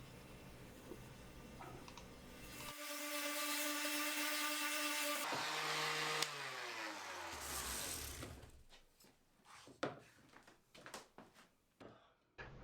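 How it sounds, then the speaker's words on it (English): A random orbit sander fitted with 120-grit paper works reclaimed wood, giving a loud steady motor whine that shifts in pitch and then winds down, followed by a run of scattered knocks and clicks. "This is 120 grit on the Random Orbit sander."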